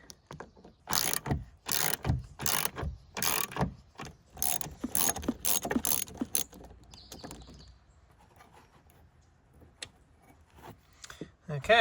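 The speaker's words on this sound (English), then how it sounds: "So I guess we just have to take these two bolts out." Wrenching on very rusty bolts at the top mount of a high-mileage BMW E46: a quick series of sharp metallic ratchet clicks in bursts, fairly close, then fading into quiet handling noise.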